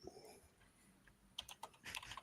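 Fingers tap quickly on a computer keyboard, a soft cluster of clicks that sharpens into a denser burst toward the end, faint and close with no talk over it.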